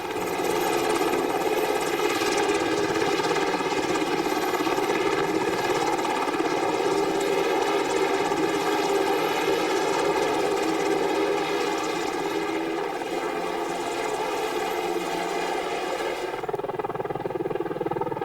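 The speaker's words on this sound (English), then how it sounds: "Helicopters also provide heavy lift capability, providing transportation for vehicles and light artillery to areas otherwise unreachable." A helicopter's rotor thrums steadily with a throbbing engine whine, loud and sustained, then the sound drops off abruptly near the end.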